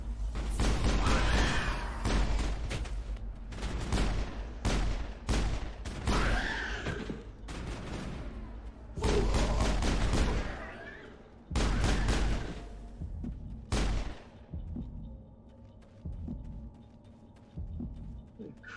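Gunfire in the video game Mass Effect: loud bursts of shots in repeated clusters, separated by short pauses, fading to quieter background toward the end.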